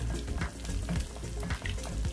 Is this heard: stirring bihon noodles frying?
yes